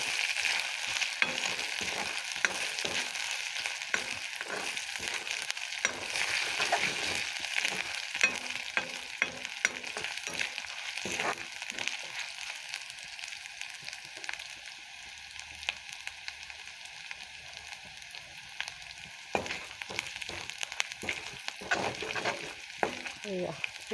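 Ginger and garlic sizzle steadily in hot oil as they fry toward golden brown, with a constant crackling hiss and periodic scraping stirs of a spoon against the pan.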